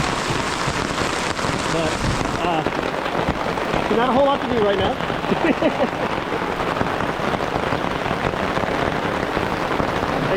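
Heavy, continuous rain drums on a staked-down tent at a campsite, a dense steady patter filling the whole stretch while a person talks over it.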